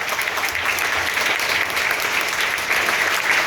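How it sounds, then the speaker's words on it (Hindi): Steady applause from an audience in a hall at a business motivational event, a dense wash of clapping that holds at an even, fairly loud level throughout. "जोरदार तालियां।"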